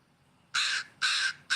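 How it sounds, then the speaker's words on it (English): Crow of the Pacific vocal type calling: a quiet moment, then three short, bright, raspy caws in quick succession, fairly close. "So here's the Pacific vocal type."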